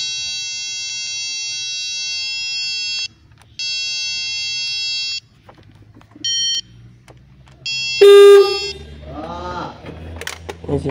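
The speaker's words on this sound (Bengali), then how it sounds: "এটাতে দিলে হর্ন বাজতেছে মাঝখানেরটা" A car horn blares in two long steady blasts, then a short toot, while its wiring is tested at the steering column; a final loud honk gives way to a voice talking, with workshop clatter between.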